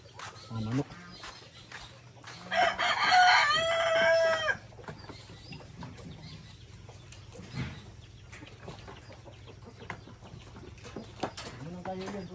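Chickens cluck and a rooster crows loudly and close on a farm, with one long crow standing out above scattered clucks and background speech.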